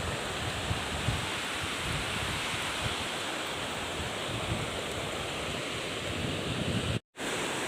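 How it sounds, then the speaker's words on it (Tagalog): Strong current of a provincial river rushes steadily and loudly close by, a dense continuous wash with no pauses, cut off briefly near the end. "medyo malakas pa tong ilog"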